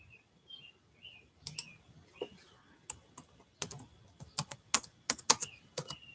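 Someone types on a computer keyboard: sparse keystrokes at first, then a quick irregular run of sharp, close clicks, with faint chirps in the quiet background.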